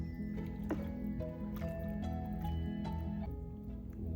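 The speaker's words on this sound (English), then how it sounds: "Give it a stir here." A spoon stirs thick egg noodle soup in a pot, making soft, wet squelches and drips in a slow, irregular rhythm at close range, fairly quiet with no talking.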